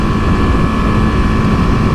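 A BMW G310GS motorcycle cruising in sixth gear at about 60-65 mph, its engine a steady, loud drone mixed with heavy wind rush, continuous and unbroken with no voices.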